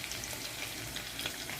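Curry leaves crackle in hot oil alongside mustard seeds, cumin and onions, a steady close sizzle with small pops throughout and no voices.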